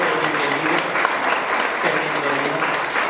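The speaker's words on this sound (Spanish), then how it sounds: "Dale una ofrenda de palmas" Congregation applause during a church service, a dense, steady round of clapping from many people, close and loud for the whole stretch.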